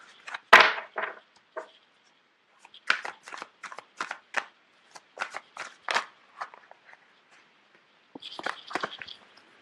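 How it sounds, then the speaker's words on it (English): Tarot cards being shuffled, heard as a series of short, crisp riffles and flutters separated by brief pauses, with a couple of louder slaps and a softer flurry at the end. "You have a lot of cards that are just popping out all over the place"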